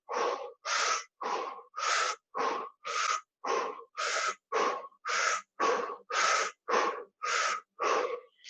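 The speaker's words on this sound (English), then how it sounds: "There's a little pumping breath there." Rhythmic yoga pumping breath, about fifteen sharp, evenly spaced breaths in and out through the body, close and clear with no talking, practiced as part of a Qi Gong routine.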